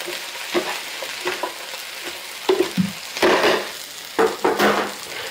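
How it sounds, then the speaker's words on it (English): Food sautéing in a pan with salt for a bariatric-friendly spring comfort dish, giving a steady sizzle broken by bursts of stirring and scraping, moderately loud with no talking. "we're just gonna let this saute for a while"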